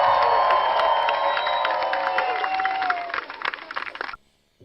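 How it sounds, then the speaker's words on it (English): An audience at a live show applauds and cheers in a dense, continuous wash that thins into scattered claps and stops abruptly. "give him a round of applause"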